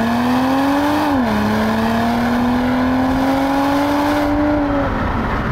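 A 2021 BMW M340i xDrive engine drones loudly, its pitch climbing steadily as it accelerates, dipping briefly at a gear change, then rising again before easing off.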